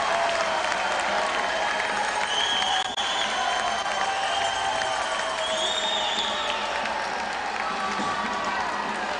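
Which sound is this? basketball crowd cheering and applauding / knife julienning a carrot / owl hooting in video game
basketball crowd cheering and applauding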